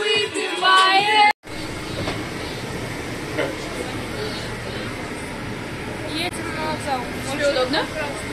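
A train in Baranovichi rumbles and rattles steadily throughout, a dense continuous clatter heard from inside or close by, with faint voices over it.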